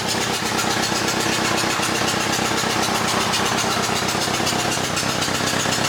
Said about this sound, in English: it's not like the happiest sounding motor, but it's definitely running